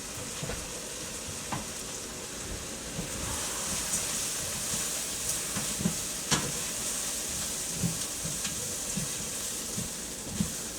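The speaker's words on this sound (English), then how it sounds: "So yes, I am sauteing the rice to give it a little toastiness." Rice sautéing for a simple risotto, a steady close sizzle and hiss with scattered clicks and taps of stirring throughout, no talk.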